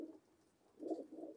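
Soft, low coos from Dubwale and kamagar pigeons kept by a pigeon fancier in Jammu at dusk: one short burst, a pause, then two more fuller coos close together, faint and without talk.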